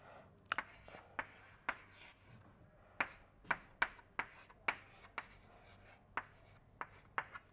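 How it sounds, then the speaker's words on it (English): Chalk or marker strokes on a lecture board, a series of sharp, separate taps and scrapes in an irregular rhythm, close and fairly quiet in an otherwise still room with no talking. "Let me write this out in another form."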